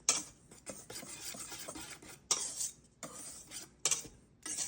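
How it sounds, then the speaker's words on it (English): A regular wire whisk stirs dry cookie ingredients, baking powder among them, in a bowl, giving rapid scratchy rasping strokes in bursts with brief pauses, close and moderately loud. "And now I'm going to whisk this together."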